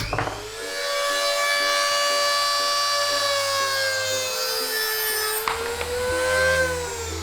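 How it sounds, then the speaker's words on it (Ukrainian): A rotary tool fitted with a cutting disc slices through a metal hook clamped in a vise, giving a sustained high-pitched whine and grinding screech with shifting pitch over several seconds and a brief dip near the end. "Скористаємося бормашиною з різальним кругом."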